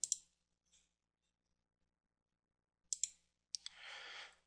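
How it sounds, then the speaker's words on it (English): A computer mouse clicks the build now button, giving a few faint, close clicks separated by silence, followed by a soft brief hiss, with no talk. "I'm going to click the build now option"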